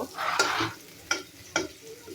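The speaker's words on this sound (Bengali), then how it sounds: "এই যে এটা লাল লাল করে ভেজে নিব।" A tempering (bagar) of spices fries for a homemade vegetable curry, soft sizzling broken by three distinct scraping stirs of a spoon against the pan, close and moderately quiet.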